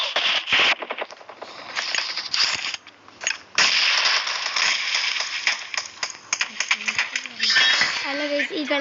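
Sniper rifle fire in a video game comes through as a string of sharp, clinking metallic reports and clattering impacts, bursting irregularly over busy game sounds, with a voice briefly audible among them.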